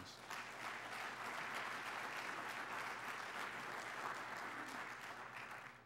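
An audience at a city State of the City address gives a round of applause, a sustained, even patter of many hands heard from some distance, fairly soft and without pauses.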